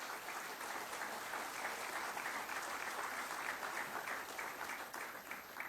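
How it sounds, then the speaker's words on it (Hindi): Steady, dense applause from a ceremony audience fills the whole stretch at an even level while mementos are presented to police officials at an Indian Coast Guard 50th-anniversary event. "जोरदार तालियां।"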